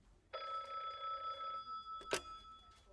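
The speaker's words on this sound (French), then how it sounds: "le téléphone de son bureau sonne." A desk telephone rings once in an office with a bright electronic trill lasting about a second, followed by a short click as the handset is picked up, heard alone without speech.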